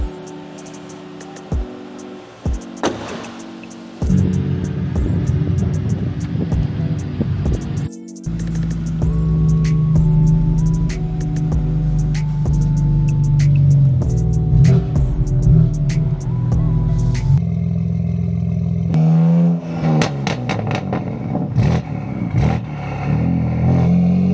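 A BMW G82 M4 widebody with upgraded turbos, port injection and E85 fuel rumbles and revs while driving, its engine note swelling in bursts with clatter and road noise between gear changes.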